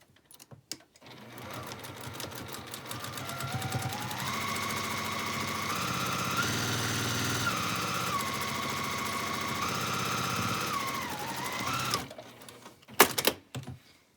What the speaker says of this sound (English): And I'm going to sew with a 1/4 inch seam. I'm going to sew this seam.